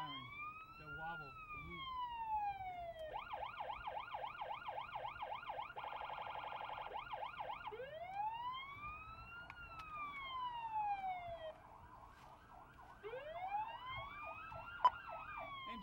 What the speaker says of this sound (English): Try the other siren. The wobble.